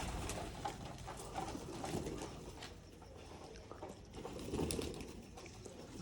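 Pigeons being fed and watered in their loft coo softly and repeatedly, faint against a steady noisy background hiss.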